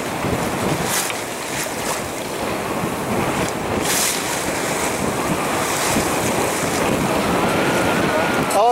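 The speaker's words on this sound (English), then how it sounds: "as we hit the last of our waves" Waves slosh and splash steadily against a moving boat's hull, with strong wind buffeting the microphone throughout and no talking.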